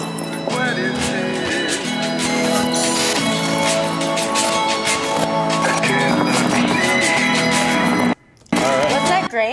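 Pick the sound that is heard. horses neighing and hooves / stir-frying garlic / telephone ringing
horses neighing and hooves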